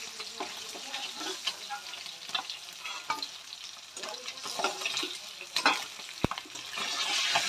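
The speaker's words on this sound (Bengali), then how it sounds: "এই পিঠটা আমরা ভেজে নিয়ে একটা পাত্রে নামিয়ে নেব" Pieces of catla fish fry in oil in a pan, giving a close bubbling sizzle with scraping and turning sounds and a sharp metallic knock near the end.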